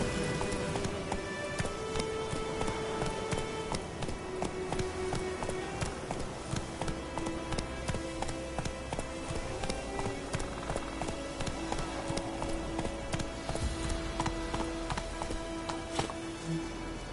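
Roach the horse trotting in a PS4 video game, steady clip-clop hoofbeats running continuously under game music and ambient sound.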